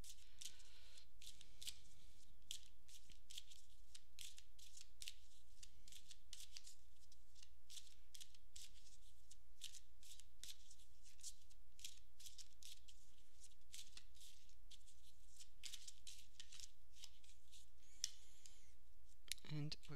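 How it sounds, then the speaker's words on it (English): Rapid crisp riffling of a deck of oracle cards being shuffled close by, crackling in quick bursts for a long stretch. "In a sec, I'll just shuffle."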